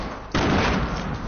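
A single loud video game gunshot fired upward, cracking in abruptly and trailing into a sustained rumbling boom with no talk over it.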